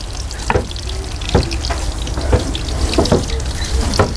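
Water runs from a tap plumbed out to a rural hut, splashing and trickling nearby with short repeated splashes and clatters over a steady background.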